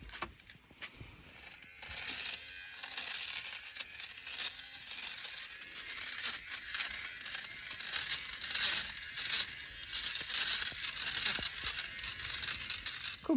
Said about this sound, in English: Gaffer's gonna come and run over it with a bobble off